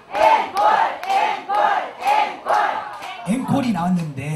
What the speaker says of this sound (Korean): 다 같이 앵콜 세 번 시작!